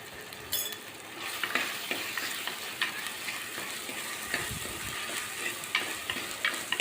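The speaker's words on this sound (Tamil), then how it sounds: "மஞ்சத்தூள் போட்டு நல்லா வதக்கிக்கணும்" Continuous close sizzling and frying of potato in a pan with turmeric, with frequent scrapes and taps of a utensil stirring the food.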